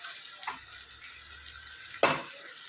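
Ground spices, red chili and green chilies roasting in hot oil for a Gujarati sev tameta curry give a soft, steady sizzle with a couple of sharper spits near the start and just past two seconds.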